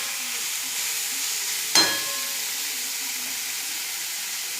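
Chicken pieces, onion and chopped tomato fry in a pan with a constant close sizzle, broken once by a sharp hissing burst that fades back into the steady crackle.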